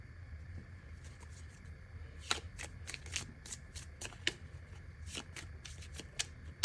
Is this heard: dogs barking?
no